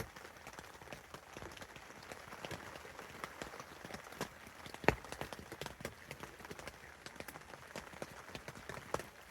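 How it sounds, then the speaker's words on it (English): Heavy rain drumming on a winter hot tent in a provincial park, dense irregular patter of big drops with scattered sharper hits, fairly faint and steady. "just waking up with some pretty heavy rainfall"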